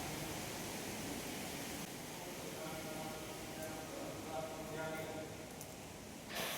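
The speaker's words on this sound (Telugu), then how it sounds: "ఈ పక్కన వాటర్ ఫాల్ సౌండ్," Chatikona waterfall beside a Shiva temple in Odisha, a steady broadband rush of falling water that stays fairly even throughout, with faint background activity.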